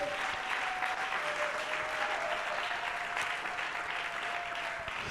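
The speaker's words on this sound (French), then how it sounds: "Est-ce qu'on peut acclamer pour ce Dieu?" A church congregation claps and applauds together, a dense, steady wash of hands that carries evenly for about five seconds without letting up.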